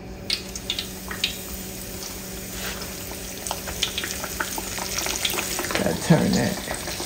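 A piece of fish fries in hot oil on a home stove, the frying giving a continuous bubbling sizzle with scattered pops that swells louder near the end, close to the listener.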